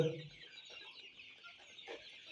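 Chickens cluck softly in short bursts against a faint, steady background hiss, with no voices.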